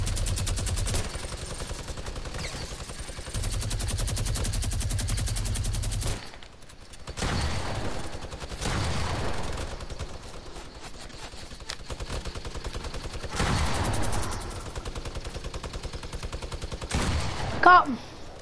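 Bursts of rapid video-game gunfire clatter in the foreground for several seconds, break off, then return in shorter volleys, with players talking over parts of it.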